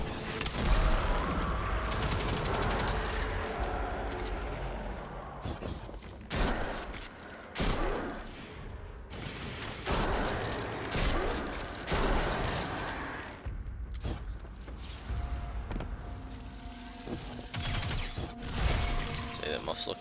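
Weapons fire crackles through a Destiny 2 fight, mixing volleys of gunshots with heavier blasts and mechanical clanks in a dense, continuous game soundscape, while a voice talks over the action.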